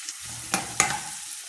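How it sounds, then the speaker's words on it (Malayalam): Chopped onion fries in hot oil with a soft, steady sizzle, and two brief louder stirring scrapes land close together. "എണ്ണ ചൂടാകുന്ന അനുസരിച്ച് ഒരു സവാള കൊത്തിയിരുന്നത് എണ്ണയിലേക്ക് ഇടുക"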